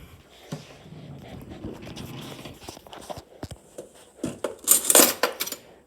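A spoon is picked out of kitchen utensils near a butter container, producing a few close, faint clinks and rattles of metal. A louder jangle of cutlery comes near the end.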